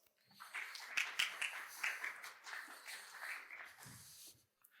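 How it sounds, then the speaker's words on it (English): Applause and clapping from a conference audience fill the space, starting strong then gradually tapering off, with scattered claps continuing to the end. "Let's welcome him together with a big round of applause."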